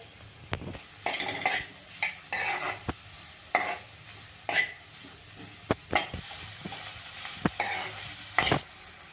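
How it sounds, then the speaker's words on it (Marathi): Finely chopped onion frying in a pan with ginger, garlic and green chili, a steady close sizzle broken by repeated sharp scrapes and clatters of a spoon stirring against the pan. "आलं, लसूण आणि मिरची घातली, थोडीशी परतून घेतली. आता त्याच्यावर हा कांदा घालूया."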